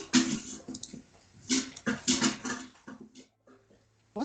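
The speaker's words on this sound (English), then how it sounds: "What the hell is that noise? My dog." A dog whimpering in a room, a string of high, whiny cries in short bursts that fade into quieter whines with pauses, heard alone without talk.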